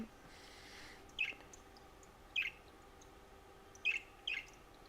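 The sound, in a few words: bird call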